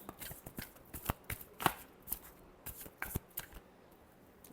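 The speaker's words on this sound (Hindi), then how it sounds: "Last shuffle." Tarot cards being shuffled by hand, a quick series of crisp riffling slaps and flutters in uneven bursts, close and fairly quiet.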